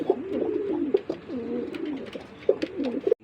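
Repeated throaty coos from a large male running pigeon, several rolling calls in steady succession, close and fairly loud, with no voices over them.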